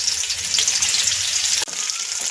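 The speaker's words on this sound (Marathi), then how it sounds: "जे धुतलेले बोंबील होते ते आपण परतून घेऊया 2 मिनिटं" Steady, bright sizzling of washed bombil fish frying in hot oil, close and continuous, with a brief clatter partway through.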